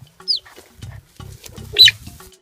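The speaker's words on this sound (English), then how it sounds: "they make this unique sound to them called chirping. So chirping is their most common vocalization between each other." Cheetah chirping at a wildlife ranch: several short, high bird-like chirps spaced across a couple of seconds, with low rumbling noise between them.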